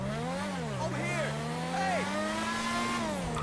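A car in GTA 5 accelerates toward top speed, its engine drone rising steadily in pitch, while someone talks over it.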